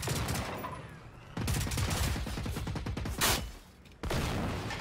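Experimental ammunition going off in the video game Generation Zero, a rapid series of bangs and crackling bursts popping one after another, loud and dense with short gaps, with no speech over them.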